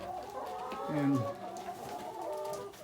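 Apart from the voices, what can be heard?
chickens clucking in a coop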